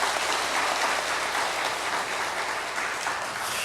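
Congregation at a Sunday Methodist church service applauding the combined choir, a steady, dense wash of clapping from many hands that fills the room evenly throughout, with no voices standing out.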